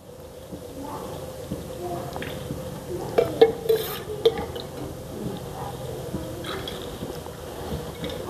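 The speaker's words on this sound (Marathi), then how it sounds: "अजून थोडं तेल टाकून घेतलं आपण." Cooking oil is poured into a pan on a gas stove for kothimbir vadi, a soft, close liquid trickle and a few light drips and clinks over a steady low background hiss.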